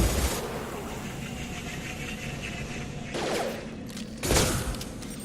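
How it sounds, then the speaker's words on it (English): Shotgun fire in Mass Effect 2 booms out in two or three heavy blasts over a steady combat rumble, fairly loud and close. "Shotgun!"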